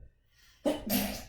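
A single sharp sneeze bursts out after a brief quiet moment, close and fairly loud, with a short breathy tail.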